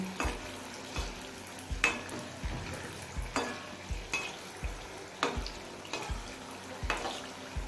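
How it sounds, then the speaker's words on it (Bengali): Raw banana fritters fry in oil over a medium flame and are turned until golden brown. A soft sizzle sits under regular, roughly once-a-second utensil taps and clinks, with no speech. "মিডিয়াম ফ্লেমে উল্টে পাল্টে গোল্ডেন ব্রাউন করে ভেজে নিয়েছি"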